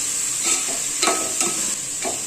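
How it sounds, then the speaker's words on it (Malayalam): Onions sautéing with salt and curry leaves for a mutton roast, a bright steady sizzle with a few sharp stirring scrapes roughly every half second, close by and without talk. "ഇതിലേക്ക് ഒരു മൂന്ന് കണ്ട് കറിവേപ്പില അതുകൂടി ഇട്ട് കൊടുത്ത് നല്ലപോലെ ഇളക്കി വാക്കി കൊണ്ടുവരും"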